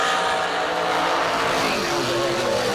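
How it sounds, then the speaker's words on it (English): A dragster charges down the drag strip at a race meet, its loud, sustained engine roar with a shifting pitch filling the whole moment while an announcer talks over it. "That dragster closing in a hurry"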